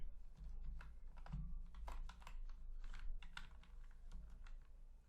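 Someone types steadily on a loud, noisy computer keyboard, a rapid clatter of keystrokes heard close up, with no talking.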